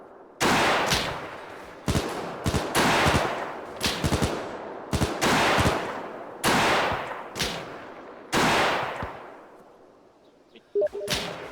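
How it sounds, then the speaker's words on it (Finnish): Bursts of machine-gun fire in the military video game Iron Front, with several loud sustained volleys in rapid succession and brief pauses between them, no talk. "Anna MG aloittaa"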